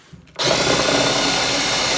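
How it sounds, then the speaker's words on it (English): Spot weld drill cutting out spot welds in sheet metal, starting abruptly after a short quiet moment and then holding a loud, steady, close grinding whine to the end. "It's no ordinary drill, it's called a spot weld drill"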